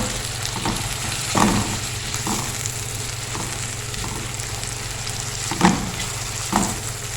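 Ginger and tomato fry in a pan for a breakfast potato dish, a steady close sizzle with a few louder pops and stirring scrapes, no voices.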